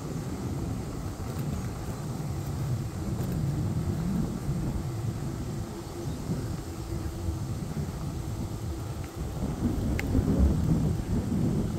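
Wind rushes past during a Sunday afternoon bike ride after rain, a constant deep buffeting roar that fills the sound without break and swells slightly near the end.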